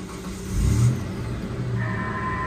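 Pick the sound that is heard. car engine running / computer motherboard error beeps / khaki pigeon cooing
car engine running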